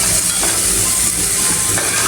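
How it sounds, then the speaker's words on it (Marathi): Spice tempering with garlic and onion sizzles in hot oil for a paneer pulao, a steady, loud, hissing crackle that holds without a break and with no voices. "बघा अशी छान फोडणी झाली आहे."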